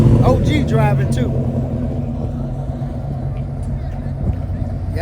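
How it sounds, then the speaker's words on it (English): Camaro engine running nearby, a steady low rumbling idle with someone talking over it at the start, then the engine alone. "remember I told you that Camaro that was parked over there? Now you get a chance to hear it."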